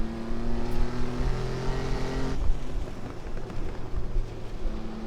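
A Jaguar car in a racing video game drives the Highlands long course, its engine droning steadily with a gear change partway through, then running on under road and tire noise, loud and continuous with no talk.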